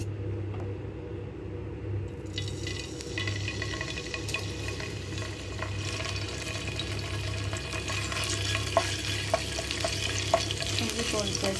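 Ginger garlic paste hitting hot oil in a pan, a sizzle that swells after a quieter start into a dense crackle with occasional stirring scrapes, near and steady under a low hum.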